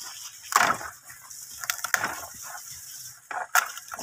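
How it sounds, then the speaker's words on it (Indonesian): A thin cow chews and crushes dry bamboo from a fence, giving irregular splintering cracks and crunches spread over a few seconds, close by and fairly quiet, with no talking. "sudah situ ada bambu kering. Dimakan sama dia ya, bukan dijilat."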